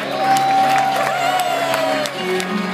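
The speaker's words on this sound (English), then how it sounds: "Big round of applause for the entire wedding party." Wedding guests at Josh and Carleen's reception cheer and clap for the wedding party, a steady crowd roar with whoops that carries on continuously over a sustained tone, loud and close throughout.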